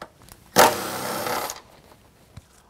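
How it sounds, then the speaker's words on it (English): Power tool driving a 12 mm socket to remove factory rocker panel bolts on a 2022 Toyota truck, one loud buzzing burst of about a second, then a faint click. "pull both of those bolts out using a 12 millimeter"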